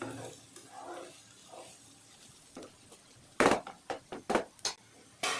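Tindora curry stirred while frying in a pan: a soft sizzle runs throughout, then a burst of spoon-scraping strokes clatters against the pan in a quick, uneven series near the end.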